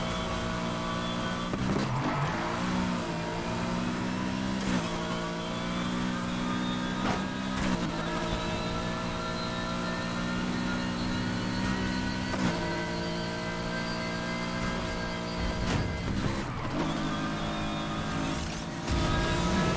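Race cars in the Need For Speed Heat video game drone continuously with a steady high engine whine, shifting pitch through gear changes and brief dips as one car overtakes another, with no talk over it.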